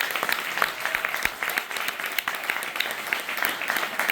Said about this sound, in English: let's give a round of applause for Adele